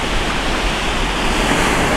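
Ocean waves at an Orange County beach in front of a beach house, a steady, broadband wash of surf rolling continuously with no distinct breaks.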